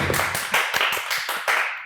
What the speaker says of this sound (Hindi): और एक और बार तालियां होनी चाहिए।